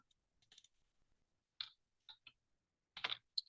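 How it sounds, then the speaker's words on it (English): A name being typed on a computer keyboard: faint, sparse clusters of key clicks separated by quiet gaps, close by. "Go ahead and type in your last name."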